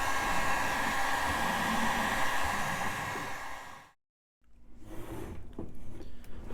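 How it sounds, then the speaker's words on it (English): A two-stage Harbor Freight heat gun runs on its high setting while warming a Ford Ranger headlight, giving a steady loud blowing roar that cuts off briefly and then resumes, slightly rougher. "using your standard Harbor Freight heat gun"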